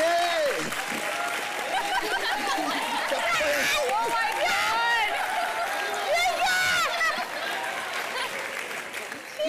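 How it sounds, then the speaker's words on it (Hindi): Studio audience on a Hindi TV comedy show clapping loudly for Usha ji, a dense sustained burst of applause mixed with cheering and overlapping voices, fading slightly at the end. "उषा जी के लिए जोरदार तालियां हो जाए।"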